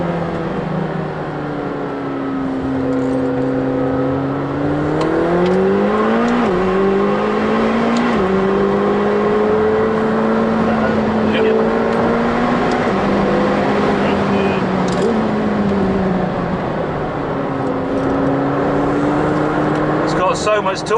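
McLaren 720S engine pulls hard on a test drive, its note rising and falling through long sweeps in a loud, continuous cabin roar, with someone talking over it.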